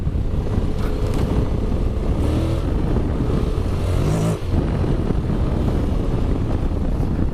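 A Honda X-ADV scooter engine drones and revs steadily on a dirt path as the rear wheel slides out, close and loud under heavy wind buffeting, with no voices.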